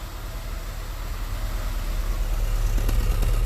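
A car engine runs rough after being fitted with cheap new fuel injectors, a low, steady rumble at close range that swells slightly toward the end.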